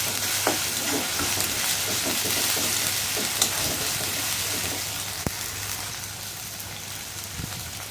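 Garlic frying in oil in a pan while cooking beef tripe, a steady close sizzle with light stirring scrapes throughout and a few sharp clicks of a spoon against the pan.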